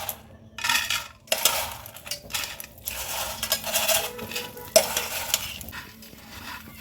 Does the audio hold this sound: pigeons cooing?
no